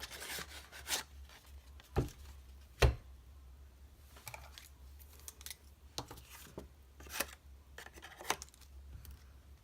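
Scissors snipping circles out of paper for a birthday card, with a few sharp close clicks and soft rustling cuts spread unevenly across a quiet background.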